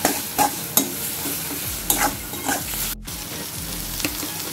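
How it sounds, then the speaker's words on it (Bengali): Turmeric and cumin powder are stirred in a frying pan for a Bengali morola fish dish, sharp repeated spatula scrapes over a soft continuous sizzle, close and clear, with no voices. "জিরা গুঁড়া ভালো করে নেড়ে নেব একটু"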